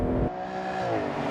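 A 2014 Aston Martin V12 engine accelerating, a smooth, steady, rising engine note with rich harmonic tone, close and fairly loud, with no voices.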